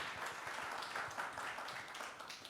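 Audience applause at a talk at the 6th Chungmuro Film Festival, a modest room of people clapping steadily for a couple of seconds at moderate volume, with no talking.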